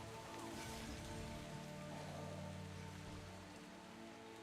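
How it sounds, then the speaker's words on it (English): Heavy rain pours onto a roof in Florida, a steady, dense hiss that runs unbroken throughout with faint tonal sounds underneath. "But yeah, it's like pouring right now."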